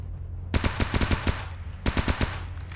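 Automatic gunfire in the video game Escape From Pripyat: two rapid bursts of evenly spaced shots, the first longer with about nine rounds, then a short pause and a second burst of four or five, loud over a steady low game hum.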